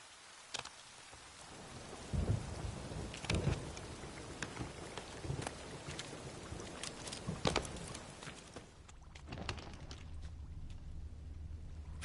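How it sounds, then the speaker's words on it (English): A thunderstorm in The Witcher 3: Wild Hunt gives steady rain hiss with repeated crackling thunder cracks and rumbles. A low rolling rumble builds toward the end. "A storm. Damn it."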